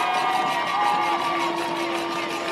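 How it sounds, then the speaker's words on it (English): Skyhawk fans at a West Virginia high school football game make a steady crowd roar and cheer from the stands, a broad continuous wash of voices that stays constant with no single voice standing out. "you can hear these Skyhawk fans in the background starting to finally get into this ball game"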